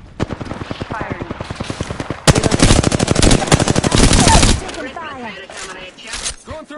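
Video game gunfire: rapid machine-gun bursts rattle in fast regular strings, louder and denser in the middle stretch, then give way to scattered fainter sounds and voices toward the end.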